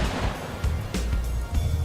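A countermeasure round fired at an incoming RPG during a military vehicle protection test: a short series of sharp muffled reports over a steady rumbling background, all close and fairly loud.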